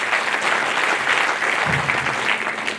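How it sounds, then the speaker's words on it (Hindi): Enthusiastic applause from an audience at a recognition event in Jamshedpur, dense and fairly loud throughout the short burst, with a brief low murmur of voices partway through. "जोरदार तालियां, जोरदार तालियां।"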